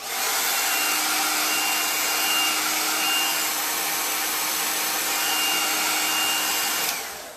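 A hair dryer blows a constant loud, airy whoosh while drying chalk paste on a craft project, running steadily for about seven seconds before switching off.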